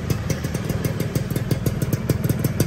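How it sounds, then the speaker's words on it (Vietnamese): A Suzuki Satria 2000 motorcycle with a race-tuned engine and loud aftermarket exhaust runs close up, with a rapid, steady, rattling idle of sharp regular pulses and no speech. "Con này là mình nổ máy rước luôn"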